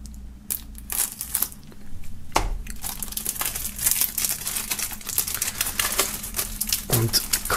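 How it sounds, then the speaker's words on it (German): Plastic film peeled and crinkled off a music album during an unboxing, a steady close crackling and tearing rustle that runs continuously with brief louder crunches, no voice. "So, dann machen wir mal die Folie ab."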